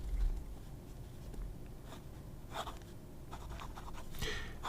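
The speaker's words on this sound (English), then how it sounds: "This has a standard Jinhao medium nib. So let's see how this writes." A Jinhao 1919 fountain pen with a medium nib scratches softly across paper in a few short strokes, quiet and close against a faint room hiss, with no talking.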